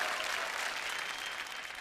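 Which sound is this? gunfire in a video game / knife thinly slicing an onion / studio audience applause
studio audience applause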